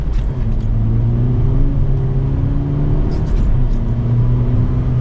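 A car on freshly mounted snow tires drives steadily with a constant engine drone and road rumble, loud and close from inside the vehicle, with no pauses.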